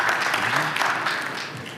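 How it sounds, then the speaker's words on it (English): Steady applause from an audience at a technology presentation on edge AI, filling the whole stretch with a dense wash of clapping that eases slightly toward the end, with faint voices mixed underneath. "Applause for our presenter."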